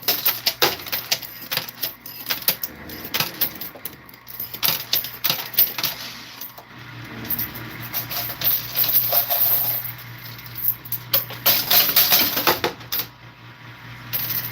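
Coins clatter and drop repeatedly as a sound effect during a livestream, bursts of metallic jingling recurring throughout over a steady electronic background hum, with no talking.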